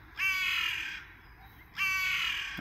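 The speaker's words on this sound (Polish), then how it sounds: "Ale się drze jakiś kruk." A raven caws loudly over a garden plot. It gives two long, harsh, drawn-out calls separated by a short pause, close and dominant over faint background.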